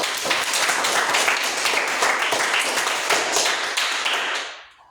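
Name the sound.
applause for Fadel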